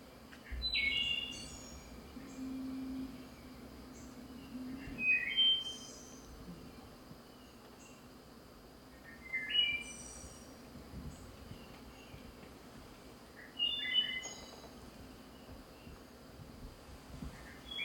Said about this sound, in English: So let's give a listen to the wood thrush.